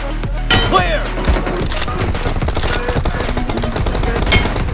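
Rapid bursts of close gunfire in a team deathmatch shooter game, with sharp loud reports recurring over dense game effects and shouted callouts.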